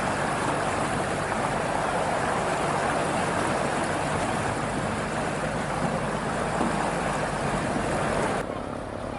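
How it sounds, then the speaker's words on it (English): Rushing floodwater and wind during Thailand's rainy season fill the whole stretch with a steady, loud roar, a small boat's motor faintly mixed into the churn of the strong current. "I think the water is a bit too strong for that little boat to get up."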